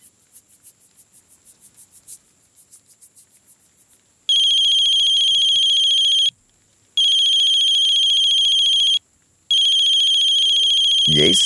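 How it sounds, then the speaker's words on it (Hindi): A mobile phone ringtone rings loudly in repeated long bursts with short gaps, preceded by softer rhythmic chirping. "ये इस समय क्यों फोन कर रहा है?"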